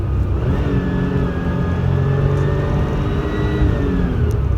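A Porsche 911 Turbo engine pulls hard under full throttle and rises smoothly in pitch as it accelerates, a strong close whine and rumble held under steady throttle.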